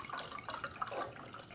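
Wine substitute poured into an insulated Huski wine tumbler, a steady close liquid splash and trickle lasting about a second and a half with no talking.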